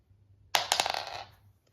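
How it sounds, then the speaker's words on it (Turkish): A small toy die clatters onto a hard surface during a board game, a sharp impact followed by a quick series of rattling bounces that fade out. "Şu çekelim, zarı atalım."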